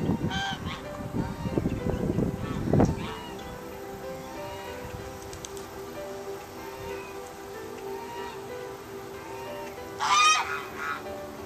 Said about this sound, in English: Goose. Geese.